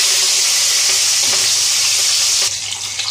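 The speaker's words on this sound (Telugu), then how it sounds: "ఈ ఆయిల్లోనే మనం కర్రీ చేసుకుందాం. ముందుగా మనం చిల్లీస్ వేసుకుందామండి" Chillies drop into hot oil left from frying small fish, setting off a loud, continuous sizzle and spatter close up, easing slightly near the end with light stirring.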